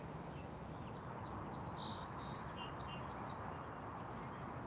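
Small bird chirping near a lake outdoors, faint high tweets scattered over a steady broad background hum of insects and ambience, somewhat distant, with no talking.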